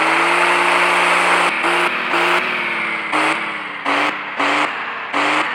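An off-road truck driving in low gear, its engine holding a steady tonal drone that repeatedly steps up and down in pitch with short cuts between surges, loud and close.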